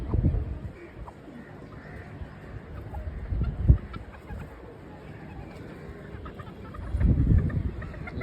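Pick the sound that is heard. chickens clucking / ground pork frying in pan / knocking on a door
chickens clucking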